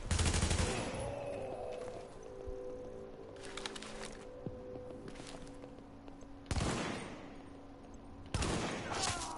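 Gunfire rings out in Tom Clancy's The Division video game: a loud opening burst, scattered lighter shots, then two more sharp volleys near the end, all close and with no talking.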